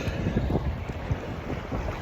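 Steady wind buffeting a microphone outdoors, a low rumbling gusty roar with soft surges, continuous and fairly close.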